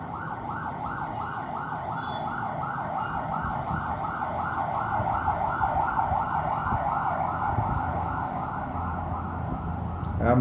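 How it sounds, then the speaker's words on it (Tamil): An ambulance siren passes at moderate distance, its repeating wail cycling steadily over traffic noise for the whole stretch with no speech. "ஆம்புலன்ஸ் போகுது."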